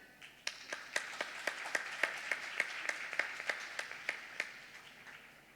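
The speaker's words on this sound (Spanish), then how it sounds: "Démosle un gran aplauso." A small audience at a Chilean medical device regulation lecture claps for a speaker, a thin, sparse round of individual hand claps with a steady rhythm, fairly close and quiet, tapering off after about five seconds.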